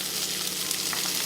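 Fried idli with pepper, salt, ginger paste and asafoetida is stirred in a hot pan, a close, dense sizzle with soft scraping, brief and continuous.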